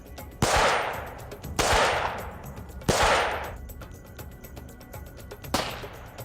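Four loud, sharp gunshots fired at a zombie target dummy, spaced about a second apart with a short echoing decay after each, and no talking in between.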